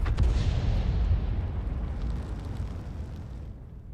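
A tank is hit in a tank battle video game and catches fire, producing a heavy, rumbling blast that rolls on and slowly fades over several seconds.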